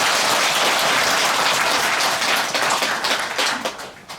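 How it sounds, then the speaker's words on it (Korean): A temple congregation at a Buddhist Dharma service at Gilsangsa gives loud, dense applause that runs strongly before thinning and fading toward the end, with no talking. "감사의 큰 박수 부탁드립니다"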